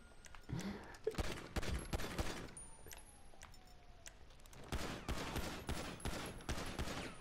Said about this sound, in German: Aber ich glaube, wir werden ihr in den Arsch schießen.